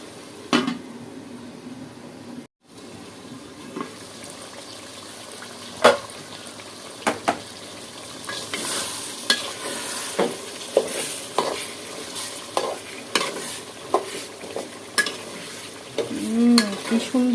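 Food sautéed and stirred in a covered pot sizzles softly at close range, with a series of sharp scraping and clattering strokes that grow more frequent toward the end.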